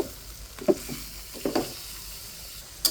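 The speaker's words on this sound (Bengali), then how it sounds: "জল ছাড়াই পেঁপেটা খুব সুন্দর করে কষিয়ে নেব" Papaya pieces being sautéed in spice masala without water in a pan, a low steady sizzle broken by a few brief scrapes and taps of a spatula, close and moderately quiet.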